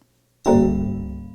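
After a brief silence, one bright struck 12-note chord on tuned percussion rings out with a sharp attack and a mellow, slowly decaying resonance.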